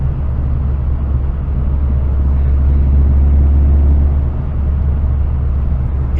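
A turbocharged Saab car running on spring boost, with the wastegate disconnected, accelerates with a loud, heavy, low engine drone and rumble heard from inside the car, holding steady for several seconds.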